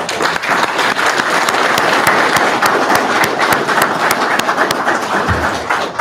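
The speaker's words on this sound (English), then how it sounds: "I think you both deserve a great round of applause." Sustained applause from an audience at a police academy graduation ceremony, steady dense clapping filling the room for the full six seconds without a break.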